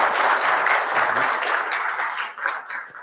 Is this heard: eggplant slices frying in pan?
no